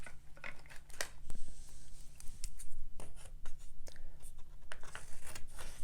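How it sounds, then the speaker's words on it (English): Scissors snip apart freshly painted watercolour cards, giving a series of close, crisp cuts and paper rustles over a low steady hum, with no talking. "I'm going to cut these apart."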